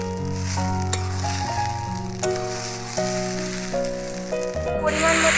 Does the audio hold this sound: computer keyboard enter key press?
no